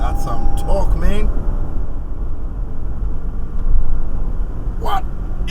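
A 5th-generation Toyota RAV4 hybrid accelerates on a test drive, giving a steady, loud road rumble and engine noise from inside the cabin. A voice briefly calls out near the start and end.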